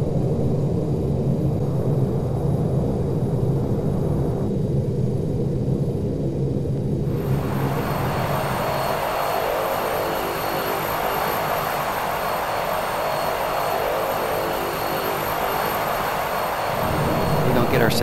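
Turboprop engines of a King Air B200 in a flight simulator roar continuously during takeoff, with the broadband engine noise swelling and brightening partway through and then holding loud and steady.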